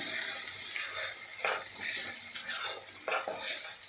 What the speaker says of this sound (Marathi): आता हे वाटण यामध्ये आपल्याला घालून घ्यायचं आहे आणि अशा पद्धतीने आपल्याला हे परतून घ्यायचं आहे